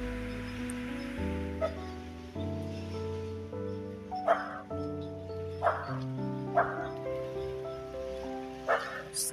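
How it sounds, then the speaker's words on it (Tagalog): Several sharp dog barks ring out at intervals at Seven Commando Beach over a steady background of music and ambient noise, fairly close and moderately loud. "Ayan, mga aso pa lang nandito."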